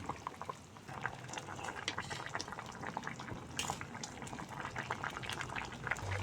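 Papaya and spice broth bubbling at a steady boil in a cooking pot, a soft continuous patter of small bursting bubbles heard close up with no voices.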